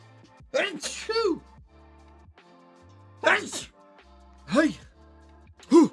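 Four sneezes burst out close by, one after another with short pauses between, each a sharp voiced explosion.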